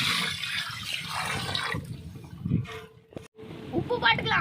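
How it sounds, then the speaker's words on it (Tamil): Water is poured into a pot of chicken biryani cooking in a village outdoors, a splashing, gurgling pour with people talking over it. "பிரியாணிக்கு தண்ணி ஊற்றிடலாம்."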